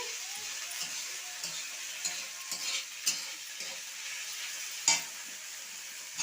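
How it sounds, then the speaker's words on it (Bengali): Spice paste of ground onion, ginger, garlic, cumin and green chilli sizzles and fries in a pan, with a steady crackling hiss, occasional stirring scrapes and a few light clinks throughout. "এখন আমি এই মশলাটাও আর একটু কষিয়ে নেবো"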